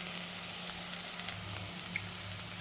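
Coriander powder fries in a pan for jowar idli masala, giving a soft, steady sizzle with faint crackles, quiet and continuous with no one talking.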